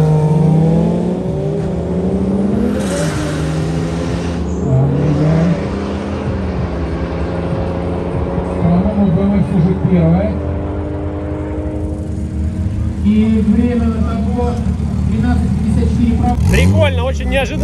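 Rear-wheel-drive cars, including a BMW, launch and rev hard in a drag race, engines roaring loud and close with rising and falling pitch through gear changes, while people talk throughout.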